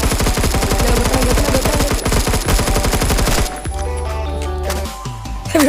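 Rapid automatic gunfire in the Roblox shooter Phantom Forces, a loud, fast string of shots for about three and a half seconds, then it stops and a lighter metallic clinking and a final shot follow.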